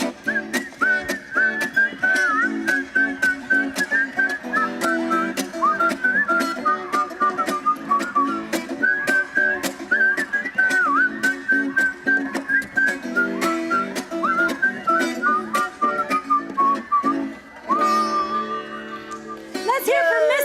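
Children whistle a melodic tune steadily over rhythmic background music at a school performance, with some vocals mixed in and a sliding whistle flourish at the end.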